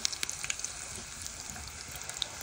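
Green plantain baskets fry in hot oil, giving a steady, quiet sizzle speckled with small popping crackles throughout.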